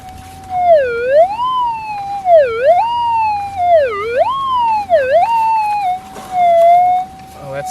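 Gold-hunting metal detector fitted with a new coil, heard through an external speaker: a sustained electronic tone sweeping down and up in repeated wavy dips as the coil passes a target, loud and close, ending in a flat hum.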